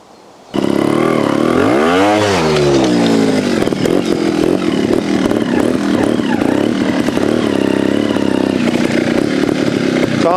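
A Sherco two-stroke trials motorcycle revs loud and close, its engine note sweeping up and down in rising pitch bursts before settling into a steady, buzzy drone while climbing a big undercut step.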